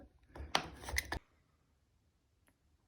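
Knife blade slicing through old, damaged bathtub caulking: a brief burst of close, scratchy cutting strokes lasting under a second, then quiet.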